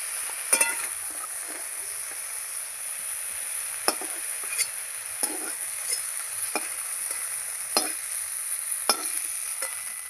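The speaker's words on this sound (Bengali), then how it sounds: "আমি মাছের বেগুনগুলো একটু ভেজে নিচ্ছি" Eggplant slices fry in oil in a pan with a quiet continuous sizzle, punctuated by several sharp scraping stirs of a spatula spaced a second or two apart.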